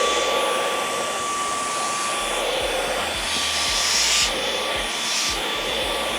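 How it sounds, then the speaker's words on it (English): A handheld vacuum cleaner cleans a Louis Vuitton Multicolor Speedy 30 bag, a loud, steady high-pitched whine with rushing airflow, its pitch and intensity shifting slightly as the nozzle moves into crevices and pockets. "But this time I actually had to use my vacuum cleaner, and this is my vacuum cleaner."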